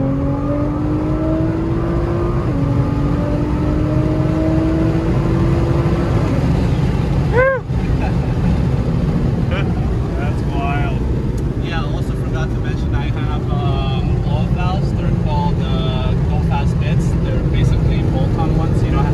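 A Nissan GT-R track edition, tuned to about 600 wheel horsepower, revs hard for a sustained stretch, its loud engine note climbing and falling close by, with voices talking underneath.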